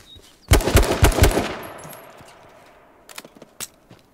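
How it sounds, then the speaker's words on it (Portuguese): Rapid bursts of gunfire in the battle game H1Z1 as enemies fire sniper rifles, a loud cluster of close cracks ringing out, then a few scattered shots after a pause. "Eles ainda tem um pouco de visão da gente. Tá tirando de sniper."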